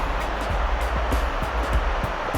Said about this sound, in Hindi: ग्लेशियर के आस-पास होते होते पानी की आवाज़ बढ़ने लग गई है।